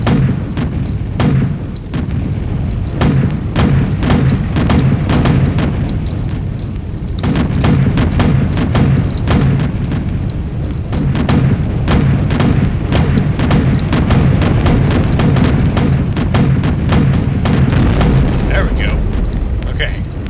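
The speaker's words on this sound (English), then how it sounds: "it seems to be a rocket launching tank" A rocket-launching tank firing in the WolfenDoom shooter on a burning city street, repeated heavy booms and thuds under steady rumbling combat noise, with someone talking over it.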